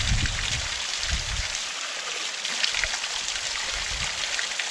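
A mountain stream on an exposed Glacier National Park hiking trail, used to soak hiking shirts, rushes steadily and close by in a continuous broad wash of flowing water with no talking.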